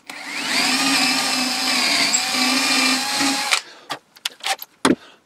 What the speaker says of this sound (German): Und wenn wir uns jetzt einen 6 mm Bohrer nehmen, bohren hier ein Loch hinein.